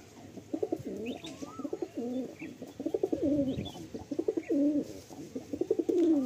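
Several Madrasi pigeons freed from hand keep up a steady chorus of rhythmic cooing, repeated close-range coo phrases running one into the next with small chirps in the background.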